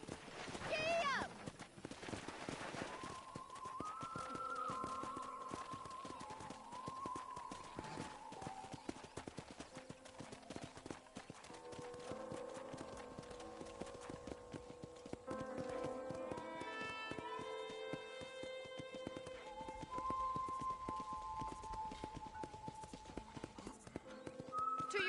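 Horse hooves clip-clopping along at a steady trot in the Red Dead Redemption video game, continuous and fairly close, layered under a voice, game music and other background sounds.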